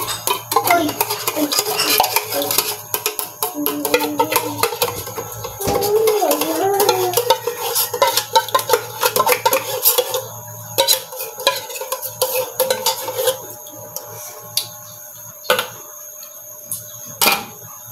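A spoon scrapes and clacks steadily inside a pot, stirring a thick mixture made with two cans of condensed milk, with clinks of utensil on metal, close and fairly loud with no talk.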